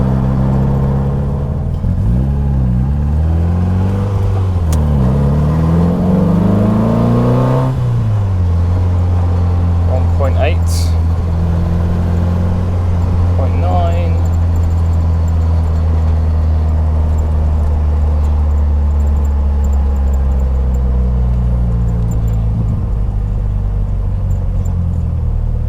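A 1978 MG Midget driving at speed, its engine a steady loud drone with rising and falling pitch early on, then a constant cruising rumble heard from inside the car.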